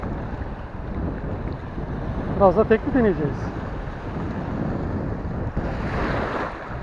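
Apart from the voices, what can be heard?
wind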